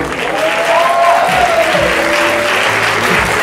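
Loud, sustained applause from an audience at a live stage play, a dense wash of clapping that holds steady from start to finish.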